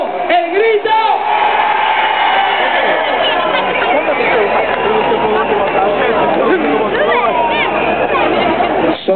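A festival crowd at an outdoor orchestra concert in Oleiros roars and shouts in a sustained mass of voices, with a band's music playing underneath and a loud voice rising over the crowd.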